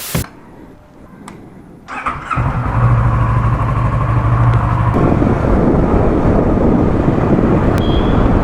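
A motorcycle engine starts up before a ride: a brief crank catches at about two seconds into a loud, steady idle that grows slightly rougher and fuller, heard close with no talk.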